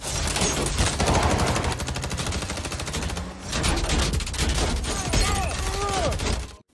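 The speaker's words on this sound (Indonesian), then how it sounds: "Hal itu memicu baku tembak sangat sengit antara dia dan pasukan Carlos yang muncul dari rumah Sean." A film shootout fills the scene with dense, continuous gunfire, rapid volleys that overlap each other, with a short lull partway through before the firing resumes just as heavily.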